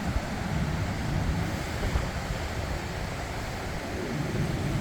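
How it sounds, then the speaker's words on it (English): Surf rolling in and breaking on rocks along the South Australian coast, a steady full roar of surging water with wind rumble on the microphone, continuous and fairly loud with no voices. "Always nice to see the surf coming in and breaking on the rocks."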